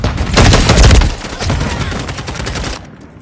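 Rapid automatic gunfire in the video game Call of Duty MWIII: dense, loud bursts of shots that peak in the first second, then a lighter stream of fire that stops abruptly near the end, with no speech over it.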